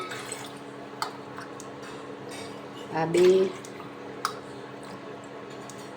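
A cup of water poured into a pot of morai (barnyard millet), one short splashing pour in the middle, heard between stretches of a person talking.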